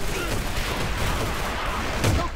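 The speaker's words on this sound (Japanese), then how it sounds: "手榴弾投擲" Grenade thrown and exploding in the shooter game AVA, heard under a constant wash of loud gunfire and battle noise, with a heavier low thump near the end.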